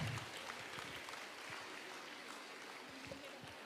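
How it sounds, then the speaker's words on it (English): Audience applause welcoming a speaker at an international seminar at a women's college, faint, distant clapping spread across a large hall, steady and low in level. "Participants, please turn out your hands to give a round of applause to welcome."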